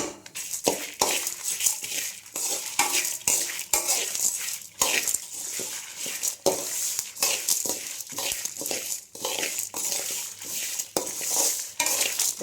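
Curry leaves dry-roasting in a pan for idli podi, stirred with a spoon in steady scraping strokes and light clinks against the metal, with a faint crackle underneath, close and continuous without talk.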